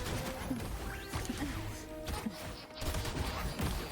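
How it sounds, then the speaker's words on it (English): A loud explosion attack in the action game Wuthering Waves, with sharp cracking impacts, bursts and whooshing effects layered over game music. "Ooh, I like that explosion attack."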